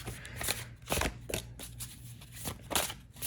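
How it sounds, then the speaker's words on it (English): Close, crisp bursts of a large tarot card deck being riffle shuffled, several quick ruffling flutters separated by short pauses, with no talking. "it's an easy deck to riffle shuffle"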